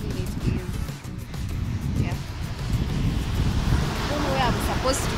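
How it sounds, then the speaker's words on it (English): Wind gusts across a beach in Mombasa, buffeting the microphone with a rough, fluctuating low rumble that swells louder toward the end, with surf faintly mixed in. "Actually, so it's quite windy."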